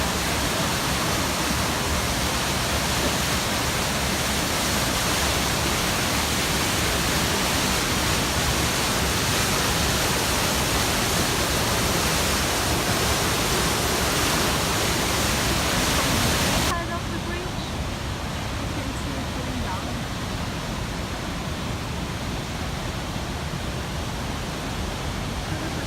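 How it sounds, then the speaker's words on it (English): The Tatzelwurm waterfall roars as a loud, constant rush of falling water heard up close, a dense unbroken wash that drops slightly in brightness partway through. "Here is the waterfall."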